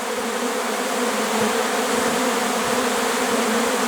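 A honeybee swarm with drones settles onto a house wall, a dense, loud, unbroken buzzing hum from many insects close at hand, with no voices.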